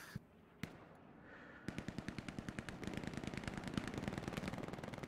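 Automatic and single-shot gunfire in the World War II shooter game Hell Let Loose, starting with a few isolated loud shots and building into a rapid, sustained burst of close machine-gun fire that fills the rest of the stretch.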